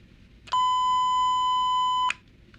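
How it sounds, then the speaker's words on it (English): A censor beep sounds as a single steady, piercing electronic tone lasting about a second and a half, clean and alone against near silence. "Where's my beep button?"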